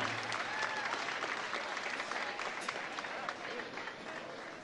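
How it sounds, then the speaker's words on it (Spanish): Sustained, dense applause from a concert audience at a VW Sound Foundation show, steady and loud throughout without breaks. "Gracias por tus aplausos, de verdad"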